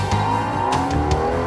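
A fast car engine revving hard, a loud close roar with rising pitch sweeps and brief bursts, lasting about a second and a half with no talking.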